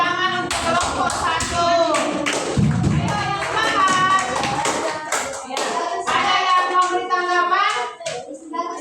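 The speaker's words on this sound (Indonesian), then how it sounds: "Berikan tepuk tangan untuk kelompok 1" Schoolchildren applaud their classmates' group, with close clapping and taps under loud, overlapping children's voices that carry throughout.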